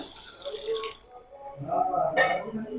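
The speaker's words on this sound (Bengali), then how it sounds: "দিয়ে দিলাম জল" Water poured into a bowl to wash fruit, a short splashing rush in the first second, then a quieter stretch and a second burst of splashing, close by.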